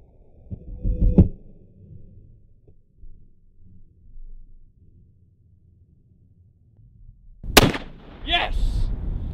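A .50 caliber rifle fires and its round strikes a target. One loud, sharp report with a booming tail stands out over quiet outdoor surroundings, and low rumbles and thumps come before it.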